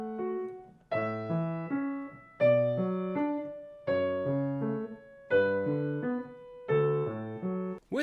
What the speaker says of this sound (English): One example of such a piece without the pedal sounds like this